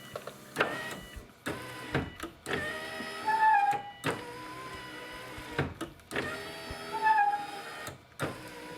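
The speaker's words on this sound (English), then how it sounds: "The new motor brings the window up nice and quick, nice and strong." A new power window motor raises the window of a 2003–2008 Subaru Forester, with two whirring runs, each ending in a sharp stop. Clicks and softer motor sounds fall between the runs, close up and with no talk.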